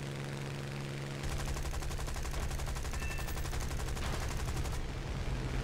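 Rapid aircraft machine-gun fire from a War Thunder dogfight in a Yak fighter rattles continuously for several seconds over a steady engine drone, loud and close, then cuts off.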